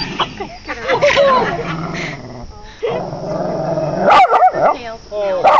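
Little puppies yip, growl and bark in short, high bursts close by, mixed with excited human voices talking over them.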